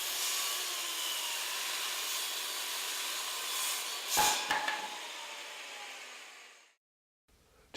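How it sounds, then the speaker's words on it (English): A 7 1/4 inch circular saw cuts into a 4 by 4 wooden post with a steady, loud whine of blade through wood for about seven seconds, a brief harsher burst near the end, then the sound drops away to near silence. "A standard 7 1/4 inch circular saw won't cut all the way through a 4 by 4 post"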